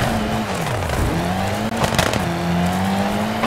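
Rally car engine in WRC 2 FIA World Rally Championship during a handbrake turn at a hairpin: steady revving that dips and climbs again, with a brief tire scrub in the middle, loud and continuous.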